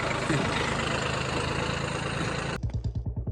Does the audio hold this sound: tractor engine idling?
yes